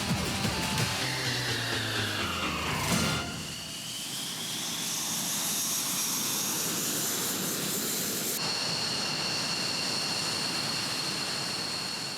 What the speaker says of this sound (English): NORAD relies on aircraft of Air National Guard units such as these F-16Cs of the New Jersey Guard, based at Atlantic City